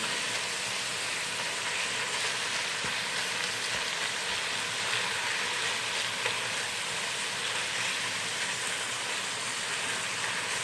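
Boneless chicken frying in a pan for a chicken lasagna, giving a steady, even sizzle like light rain that runs unbroken throughout with no talking.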